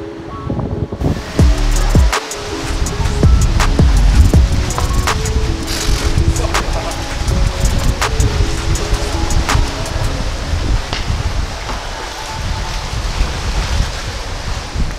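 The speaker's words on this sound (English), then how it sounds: "It's gotten very windy." Strong wind gusting outdoors in misty weather, buffeting the microphone with loud, continuous low rumbling and roaring that persists throughout, with no speech.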